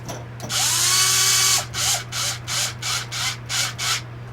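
A power tool drives one bolt from underneath into the plastic spindle of an Arrma 3S RC car: one long close whirring run, then a series of five short bursts, over a steady low hum.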